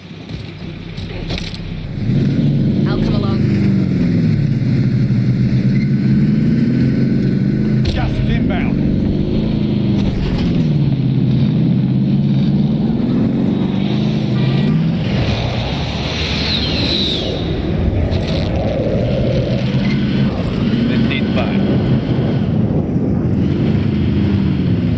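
Engine of a vehicle driven in a shooter video game, a loud steady drone with rising and falling revs that runs through the whole stretch, with players talking over it and game sound effects mixed in.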